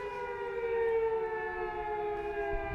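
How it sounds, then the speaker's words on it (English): Old World War II air raid siren holding a steady wailing downtone, loud and close with layered harmonic pitches, sounding alone without any talk. "It sounds like the kind of downtone of an old World War II air raid shelter siren."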